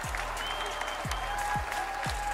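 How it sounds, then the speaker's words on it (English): A crowd gives a brief round of applause at a live Fortnite FNCS esports tournament event, steady clapping throughout with soft rhythmic low thumps beneath. "we got a little bit of round of applause there"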